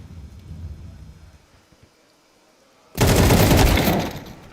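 Flashbang grenades go off in a competitive video game match, a sudden loud burst of sustained crackling blast noise after a quieter stretch of low rumble and faint background.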